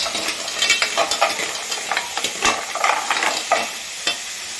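Mussels tossed and stirred in a hot pan, scraping strokes of a utensil over a constant crackling sizzle, close up and lively with no talking.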